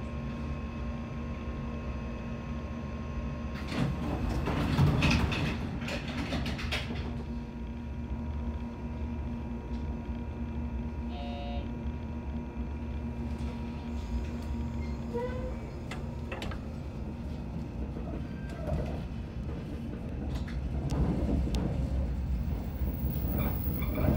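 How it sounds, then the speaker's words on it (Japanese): A JR 415 series 100-subseries local train on the Nippō Main Line departs toward Saiki, with a steady low rumble of running gear and motors, occasional louder clatter and a brief chime, heard from inside the cab. "普通列車の佐伯行き発車いたします。"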